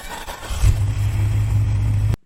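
A ZD Racing RX12 1/12 scale 4-wheel-drive brushless RC rally car motor spins up from quiet into a loud, steady electric whine and hum, sustained for under two seconds before stopping sharply.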